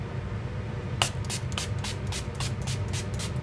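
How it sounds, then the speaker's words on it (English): Ofra Makeup Fixer setting spray is spritzed onto a face in a series of quick, soft hissing bursts, about eight pumps in close succession, heard up close over quiet room noise. "I'm gonna go ahead and set my face with the Ofra Makeup Fixer Spray"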